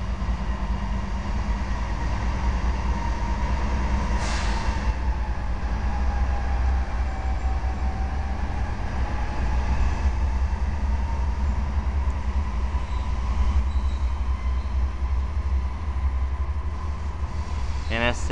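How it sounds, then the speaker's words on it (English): A slow-moving Norfolk Southern intermodal freight train rolls past on the main line at Roanoke, Virginia, with a continuous heavy rumble and clatter throughout and a brief high squeal near the end. "And we got an intermodal."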